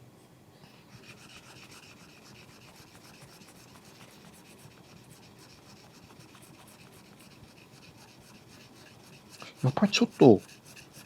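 A round gouge chisel is rubbed on 400-grit sandpaper, a faint steady scratchy rasping that runs for most of the stretch, with a man's brief speech near the end.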